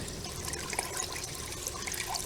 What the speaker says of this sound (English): The water really being pulled in there.